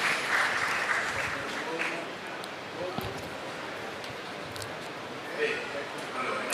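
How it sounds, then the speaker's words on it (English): Audience applause at the opening session of a steel industry conference, clapping from a moderately distant crowd that swells at the start and again near the end, with a voice speaking over parts of it. "An applause"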